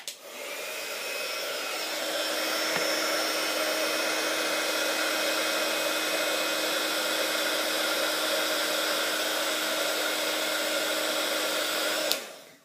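A handheld heat tool blows steadily on embossing powder for about twelve seconds, a loud, even whirring hiss that starts and stops with a click and stays alone without any talking.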